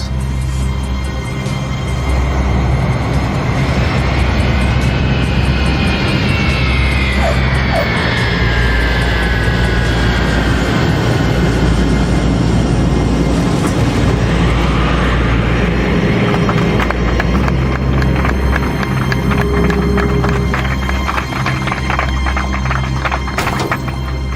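An airliner descends and lands at Heathrow with a loud, continuous engine roar inside the cabin. Whining tones sweep and shift partway through, then give way to a rougher rumble.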